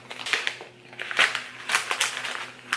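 Crinkly tearing and rustling as a package of salted caramel oolong loose-leaf tea is opened, several close crackling bursts spread over a few seconds with no talking.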